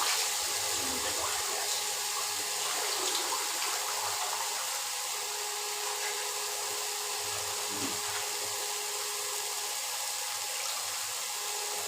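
Water is poured into egg curry masala in a pan, making a steady, hissing, splashing rush that holds at an even, moderate level throughout.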